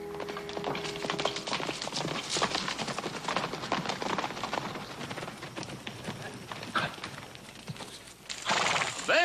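Hooves clip-clop in a steady trot close by while a horse whinnies, with faint voices under the sound and a louder rustle near the end.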